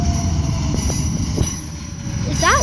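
A train rolls past on mountain tracks, a loud, close, continuous rumble of wheels and cars with scattered clanks, ending in a rising and falling metallic squeal, while people talk faintly in the background.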